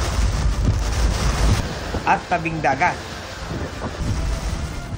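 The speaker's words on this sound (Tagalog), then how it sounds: "Kumakalantok ang tunog ng malalakas na hangin at ulan sa Florida bago pa maglandfall doon ang Hurricane Milton" Strong wind roars with rain during Hurricane Milton in Florida, a loud, continuous gusting buffet across the whole span while a voice speaks briefly over it.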